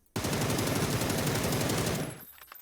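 A sustained automatic spray from an AUG rifle with a vertical foregrip in PUBG: close, loud, rapid-fire shots in a steady rhythm for nearly two seconds, then a brief fading tail.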